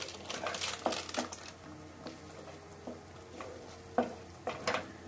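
A spoon stirs fresh cream and butter into dhaba-style chicken bharta in a pan, with soft repeated scraping and sizzling and a few sharper clinks of utensil against metal near the end.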